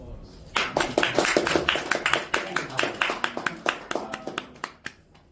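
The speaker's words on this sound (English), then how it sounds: "That deserves a round of applause." An audience at an anime convention interview panel claps in a burst that starts thick and then thins into scattered individual claps, heard fairly close, with a little background chatter.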